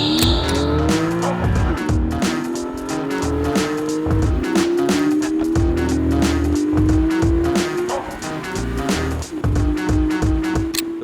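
A Porsche 718 Spyder with a 4-litre engine making 415 horsepower is driven hard, its engine climbing through repeated rising revs and gear changes, with tire squeal over a loud, continuous run.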